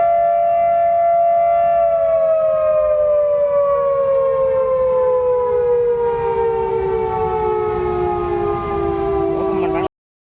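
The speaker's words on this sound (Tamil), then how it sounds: "ஒரு சைரன் சவுண்டு இந்த சவுண்டு கேட்டதும்" A loud, sustained dam warning siren at Veedur Dam wails steadily, its pitch slowly sliding downward over about ten seconds before cutting off abruptly.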